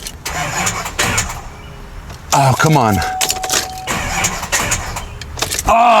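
A Duramax diesel truck engine cranks on a jumper box without catching, a couple of laboured starter bursts close by, with someone talking over and between them.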